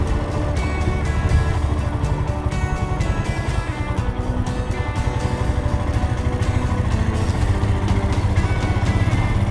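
A motorcycle engine runs steadily at close range during U-turn practice for a riding exam, a continuous low mechanical drone with a dense rhythmic rattle throughout, no talking.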